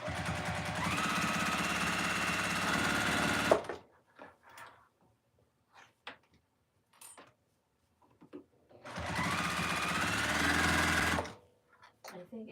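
Sewing machine stitching pajama fabric in two loud, fast whirring bursts of several seconds each, separated by a quiet gap with faint clicks and handling sounds.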